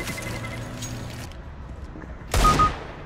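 Gunfire in Overwatch crackles in a low, dense rattle, then a sharp, louder burst of shots lands near the end.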